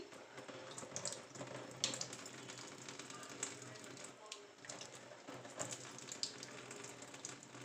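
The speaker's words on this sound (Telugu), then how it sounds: "కూల్ వాటర్ తోటి మనం కొంచెం నీట్గా వాష్ చేసేసుకోవాలండి" Cool water runs from a tap and splashes faintly while a face is rinsed. The low, continuous trickle has small spatters and stays quiet throughout.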